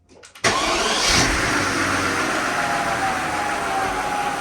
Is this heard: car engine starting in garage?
yes